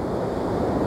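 Storm-driven sea waves washing in at Anapa during a hurricane-force wind, a continuous broad roar of surf mixed with gusty wind buffeting the microphone, loud and close.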